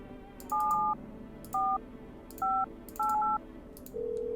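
Touch-tone keypad dialing in the video game No, I'm Not a Human: a string of separate DTMF beeps in uneven bursts, some short and some longer, ending with a steady tone, clear over a low background hum.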